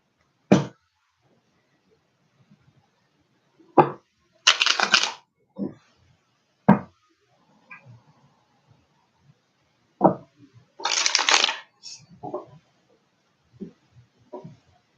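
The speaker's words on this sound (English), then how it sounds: "the cards are really wanting to shuffle themselves up good this time" Tarot cards shuffled by hand during a birthday reading, heard as short crisp riffles and snaps, with two longer bursts of rapid flutter among scattered taps, close and fairly loud against a quiet room.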